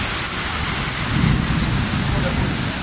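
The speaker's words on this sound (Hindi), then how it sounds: "बारिश ही बहुत तेज़ आंदी पी है, बहुत ही तेज़" Heavy rain pours down during a storm in Jeddah, Saudi Arabia, a loud dense hiss with a low rumble of thunder swelling midway, while a voice speaks faintly beneath.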